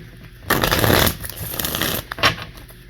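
Tarot cards being riffled and shuffled by hand, a loud close-up rush of flapping card noise lasting about half a second, then softer shuffling and a final quick riffle.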